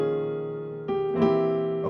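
Gospel piano phrase in a harmonic minor setting: a sustained chord rings, then fresh chords are struck near the end, played solo without talk.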